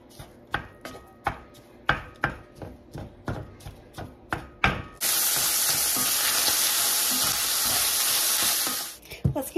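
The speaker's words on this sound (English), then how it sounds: "The first thing we are going to do for this cheeseburger soup is brown up our hamburger meat." Hamburger meat hitting a hot pan for browning, breaking into a loud, dense sizzle that holds steady for several seconds after a run of sharp rhythmic knife chops on a board.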